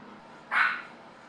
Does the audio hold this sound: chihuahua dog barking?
yes